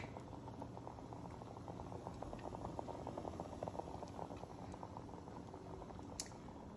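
Onion jam boils as it reduces down for canning, a soft, steady bubbling and popping close by, quiet and continuous with a few sharper pops.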